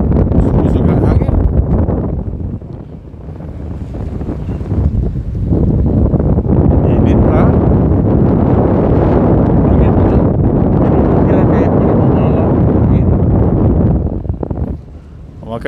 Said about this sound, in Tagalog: sumusog ang hangin.